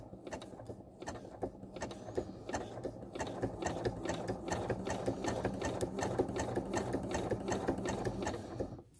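A home sewing machine slowly stitching fabric for a quilted Dresden plate, running in a steady even mechanical rhythm of rapid needle strokes throughout, close and alone.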